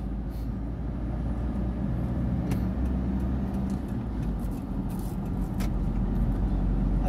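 A 1.9-litre Isuzu pickup with a freshly fitted rear differential drives along, giving a steady, loud low engine and road rumble throughout with no talk on top.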